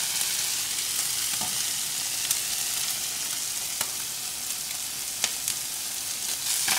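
Fish fillets fry in hot oil in a pan with a dense, steady hiss and crackle, broken by a few sharp spatters and light utensil clicks, close and continuous with no talking.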